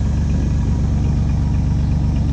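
A 1991 Chevy S-10 truck engine idles steadily with a fuel-injected motor, giving a loud, even, continuous low rumble at close range with no talk.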